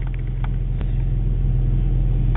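Car engine revving while the car is stuck in a snow drift during a blizzard, a steady low rumbling drone with a couple of faint knocks, no talking over it.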